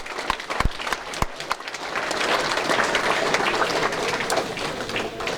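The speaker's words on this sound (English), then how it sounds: "Give yourselves a round of applause for being here." An audience at a sports night event bursts into applause, starting with a few scattered claps and swelling into sustained, dense clapping from a crowd.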